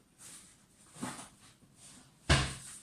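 A small drawer is rummaged and pushed, with soft scrapes and rustles and then one sharper knock or thud near the end, close by and without speech.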